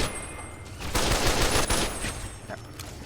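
Gunfire in the video game Fallout: New Vegas, a dense burst of rapid shots swelling in the middle and trailing off, loud and close.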